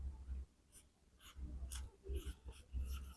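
Pen or marker scratching out an answer by hand during a maths logic lesson, in several short bursts of close scratchy strokes with brief pauses between them, no talking.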